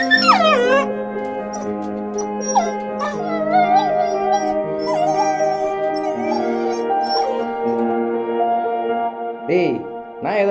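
A dog howls and whimpers in long, wavering, drawn-out cries that rise and fall over about ten seconds, loud and close, with a voice-like quality in places.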